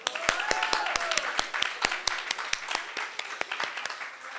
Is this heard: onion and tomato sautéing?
no